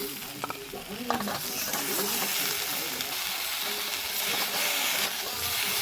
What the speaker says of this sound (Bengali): এখন দেখুন ভালোভাবে ভাজা হয়ে গেছে, এর মধ্যে আমি ভেন্ডিগুলো দিয়ে দেবো।